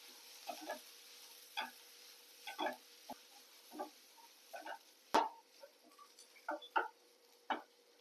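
Onions with curry leaves and coriander sautéing in a pan for sweet and spicy paniyaram, with irregular soft sizzles and scraping stir strokes, one sharper clack midway, fairly quiet and close with no talk.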